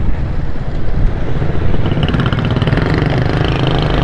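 A motorcycle engine runs steadily during a ride on a rough road from Afghan Basti to Sohrab Goth, a loud, continuous low rumble with no talk over it.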